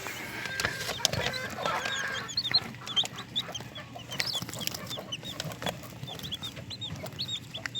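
Hen with newly hatched chicks on a farm, soft clucking from the hen mixed with many faint high peeping calls from the chicks, continuous over steady background noise.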